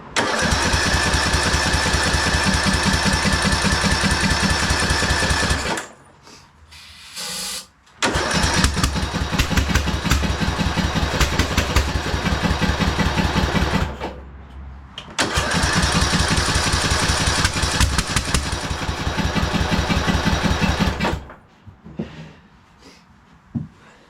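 A Husqvarna YTH2042 lawn tractor engine cranks and runs loud and close in long stretches, cutting out twice into brief near-silence before firing up again, with a slightly uneven, sputtering rhythm.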